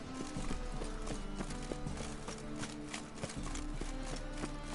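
A horse's hooves clip-clop steadily in The Witcher 3: Wild Hunt, a regular rhythm of close, crisp taps with quiet ambient game sound underneath.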